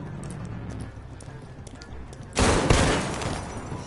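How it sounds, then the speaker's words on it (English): In the video game Detroit: Become Human, scattered faint pops give way to a sudden loud burst of rapid gunfire that rattles on for over a second before tailing off. "Gunshots."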